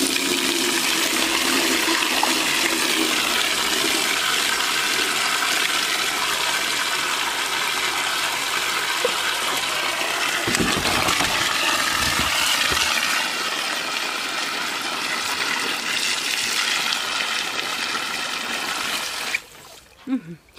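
Peaches being washed in water mixed with baking soda, with running and splashing water loud and steady for most of the stretch, sloshing midway, then a sudden stop near the end; a voice talks over it.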